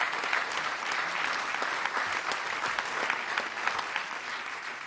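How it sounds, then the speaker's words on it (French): Audience at a political rally on pensions applauds, a steady wash of many hands clapping at moderate distance with no break. "Et je pense qu'on peut les applaudir."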